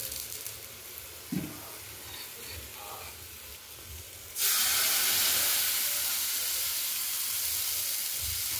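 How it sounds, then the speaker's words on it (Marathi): Chopped onion hitting hot oil in a pan for dosa, a sudden loud sizzle that bursts in and holds as a steady hissing fry after a few quiet kitchen clanks. "थोडंसं तेल टाकायचं आणि हा कांदा आहे ना असं थोडा फिरवून घ्यायचा"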